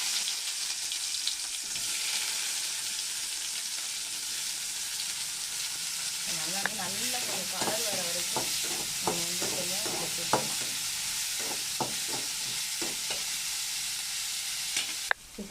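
Onions and fennel seeds fry steadily in a hot pan, a continuous broad sizzle with spatula scrapes and stirring clatter in the middle stretch. No one talks.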